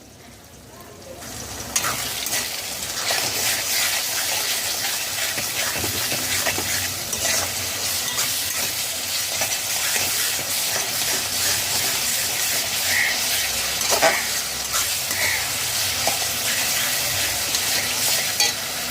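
A paste of sweet poppy seeds, pumpkin seeds and mace fries in a pan for niramish aloo dum, with a continuous hiss and sizzle and repeated scraping stirs. The sizzle starts suddenly and stays steady and fairly loud throughout.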